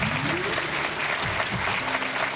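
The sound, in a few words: studio audience applause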